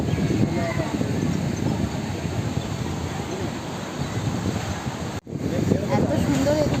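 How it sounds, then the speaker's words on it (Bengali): Wind sweeping across Digha beach, a steady, broad rushing roar with microphone buffeting that runs the whole time, cutting out for an instant near the end before returning just as strong. "এত সুন্দর এদিকে হাওয়া দিচ্ছে"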